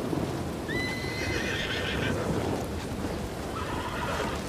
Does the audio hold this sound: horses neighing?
yes